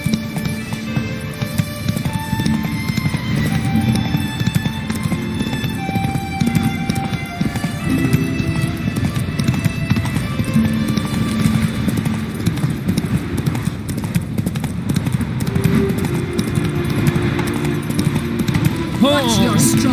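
Roach, a horse in The Witcher 3: Wild Hunt, gallops with rapid, steady clip-clopping hooves under a music score, and someone speaks briefly.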